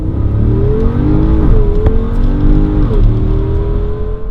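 A 2020 Porsche Cayenne Turbo launches hard from a standstill, its engine roaring loud and close as it climbs through the revs, with a brief dip at each gear change before pulling strongly again.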